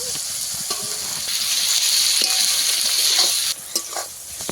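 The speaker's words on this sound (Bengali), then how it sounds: "একটু ভালো করে ভেজে নেব" Onions fry in a pan for a chicken curry, a loud, steady sizzle with occasional scraping stir strokes that eases off near the end.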